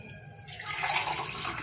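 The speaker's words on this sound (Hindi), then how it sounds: "अब इसमें हम तकरीबन पानी डालते हैं, ये तकरीबन हम 2 गिलास पानी इसमें डालेंगे।" Water from a glass is poured into a cooking pot, roughly two glassfuls, while making chicken shami kabab; a steady, splashy rush of water starts after a brief pause and continues loudly.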